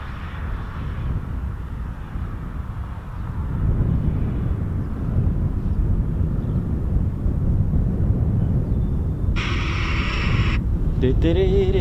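A Eurofighter Typhoon FGR4 jet makes a low approach to runway 25 at RAF Coningsby, its broad roar swelling and holding steady, with a voice talking over it near the end.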